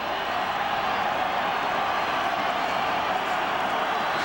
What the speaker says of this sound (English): listen to the crowd here. Split about halfway down the middle.